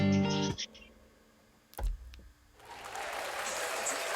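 Applause sound effect in a hip hop track rises after a short musical phrase and a brief knock, settling into steady crowd clapping that continues to the end.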